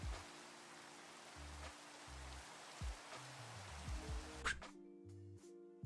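Steady, faint rain falls in Minecraft, a soft wash of hiss that runs for several seconds while low game music and tones play beneath it, ending with a brief click.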